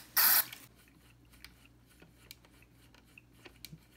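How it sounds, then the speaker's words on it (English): DeoxIT contact cleaner sprays into a potentiometer of a Fender Deluxe Reverb amp in one short, loud hissing burst, followed by quiet scattered clicks and ticks over low background hum. "just spraying it with deoxit may flush something out"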